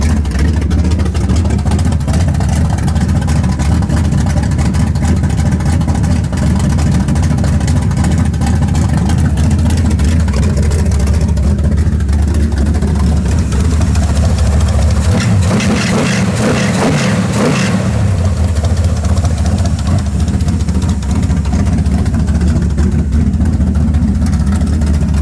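Car engine with a 750 vacuum-secondary carburetor idling near operating temperature, a steady, loud low rumble that holds even throughout, with a brief dip partway.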